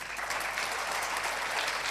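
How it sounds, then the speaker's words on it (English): Applause fills a hall at an awards event honoring athletes on stage, a dense, steady burst of clapping at moderate level with no voices over it. "the little that they deserve is a louder round of applause"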